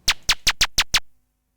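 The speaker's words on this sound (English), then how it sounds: "So this is the sound of this pew." A sped-up 'pew' sound effect from the Scratch library fires six times in quick, evenly spaced succession, each a bright descending zap that decays fast, then silence.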